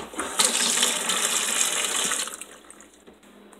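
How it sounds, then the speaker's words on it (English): Tap water gushes steadily into a container for instant noodles, a close bright rushing stream that shifts in tone as it fills, then eases near the end. "Then put some water in that."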